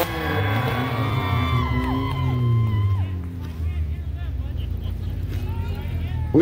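A demolition derby car engine at the Gravenhurst 2024 derby revs hard as the throttle is hit, its pitch rising and falling in sweeps over a steady rumble of other engines, with crowd noise and voices around it.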